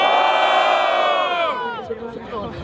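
Crowd cheering and shouting at a São Paulo rap battle, a loud, dense swell of many voices whooping together, fading and breaking into scattered yells near the end.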